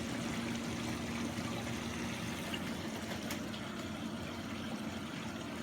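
A washing machine stuck in its cycle, with a solenoid valve just repaired, fills with water for the rinse. The water gives a steady, even rush of noise over a faint low hum, and no one speaks.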